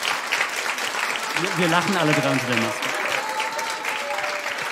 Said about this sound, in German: nochmal einen wunderbaren virtuellen Applaus